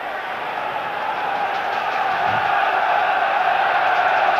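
Club Brugge supporters fill a football stadium with a broad, sustained roar that swells gradually louder over a few seconds, a dense wall of crowd noise.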